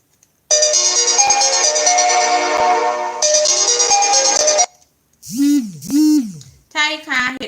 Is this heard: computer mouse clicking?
no